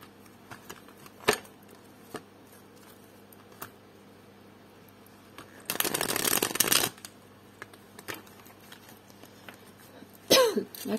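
Tarot cards are riffled in one quick, close burst of rapid flapping lasting about a second, surrounded by faint taps and handling noises and a short sound near the end, in a quiet room.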